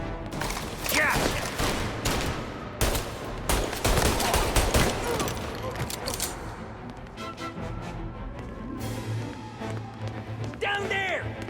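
Rapid gunfire in a Mafia Definitive Edition shootout: dense volleys of sharp shots crowd the first half, thinning to scattered distant rounds later, with shouted voices cutting in over the action.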